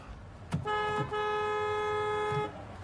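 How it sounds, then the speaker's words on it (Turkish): A car horn blares in a long sustained honk after a couple of short taps, loud and close amid street traffic, with no voices over it. "Bıktım bu trafikten ya."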